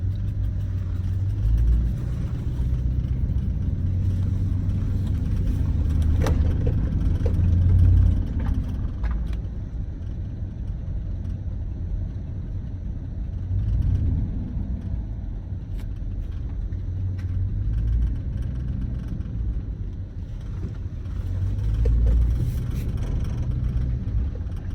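A vehicle with a 4.8 LS V8 engine drives along, its deep engine rumble and road noise steady and close, swelling gently with acceleration every few seconds.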